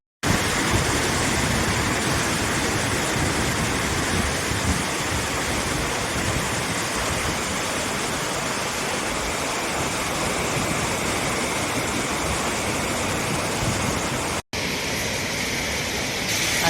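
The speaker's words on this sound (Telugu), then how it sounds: "అక్కడి నుంచి పడే వాటరు" Pittalaborra waterfall pouring down in a steady, loud broadband roar that holds unbroken, close and alone, with only a brief dropout near the end.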